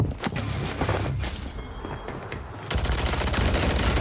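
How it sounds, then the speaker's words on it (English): Gunfire in Call of Duty Warzone on the Urzikstan map rattles as dense, continuous automatic bursts layered with distant shots, then grows louder and fuller partway through. "What the fuck is he shooting at?"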